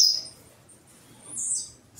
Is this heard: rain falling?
no